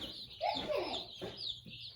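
Meat-bird chickens clucking and peeping nearby on a farm, a few overlapping calls rising and falling over a steady background hum.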